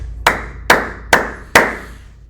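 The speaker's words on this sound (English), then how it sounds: "Let's applaud that." Four slow, single hand claps spaced evenly about half a second apart, sharp and close, each ringing briefly into a quiet room.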